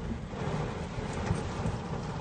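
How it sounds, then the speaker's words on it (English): Heavy rain pours steadily at a campground during a thunderstorm, with dense broadband hiss and low rumbling thunder underneath, loud and continuous throughout. "Big storm ruined our day."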